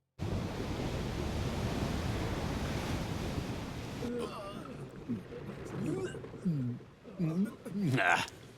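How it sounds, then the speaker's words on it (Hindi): Sea waves in an anime at sea make a loud, continuous rushing wash for about four seconds, then fade under voices talking and shouting. "ये लहरें तो कुछ भी नहीं थी।"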